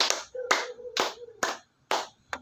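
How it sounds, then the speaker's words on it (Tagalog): A class claps in unison in a classroom, producing five sharp, evenly spaced group claps, each a crisp burst with brief silence between, and a faint hum running under the first few. "Bigyan natin ng 5 palakpak si Brenda."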